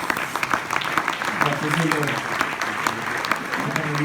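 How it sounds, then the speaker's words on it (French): An audience claps at an innovation awards ceremony in Mayenne while someone speaks over the applause, the clapping steady and fairly close beneath his voice. "On peut vous applaudir encore une fois."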